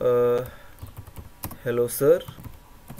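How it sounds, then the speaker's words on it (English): Computer keyboard keys tapped in quick bursts while a formal email is typed, close and clear, with a person speaking briefly over the clicking. "I'm just typing a message, that is a formal email"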